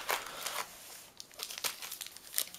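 Plastic wrapping on an old Yu-Gi-Oh Legacy of Darkness booster box crinkles and tears close up in irregular bursts, quiet between handling moments, with no voices.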